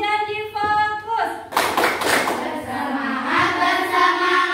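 A school class performs a rhythmic promise clap, with a burst of hand claps and slaps up close, set among a teacher's and pupils' chanted voices.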